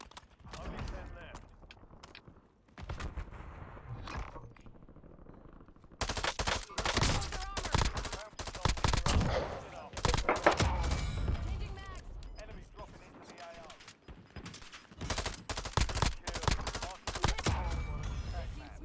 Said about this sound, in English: They're shooting me from up top by the buy station.